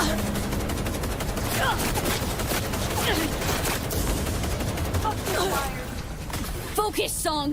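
Heavy gunfire in the Cyberpunk video game, dense continuous volleys of automatic shots loud and close, with shouted voices over the battle.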